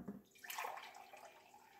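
Tap water pours into a soup pot for vegan lentil soup, a steady close rush with a splashy start that settles into a continuous fill, with no talk over it.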